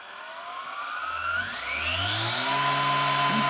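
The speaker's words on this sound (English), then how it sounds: "It's a bench grinder run by an 18-volt battery." A cheap 18-volt battery-powered variable-speed bench grinder spinning up from rest, its motor whine rising steadily in pitch over a few seconds before settling into a close, even high-speed hum.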